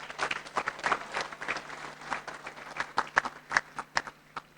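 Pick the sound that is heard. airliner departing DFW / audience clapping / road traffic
audience clapping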